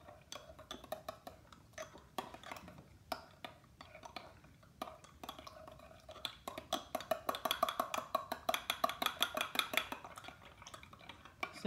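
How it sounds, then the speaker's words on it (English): Gelatin mixture for angel cake pies stirred in a bowl, a quiet run of rapid utensil clicks and scrapes against the bowl that grows faster and denser toward the end. "So we're going to stir this really well."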